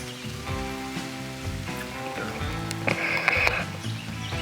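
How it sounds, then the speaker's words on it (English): Rain falling steadily, a constant patter on a surface, with other background sounds mixed in and no voices. "It's raining pretty dang good."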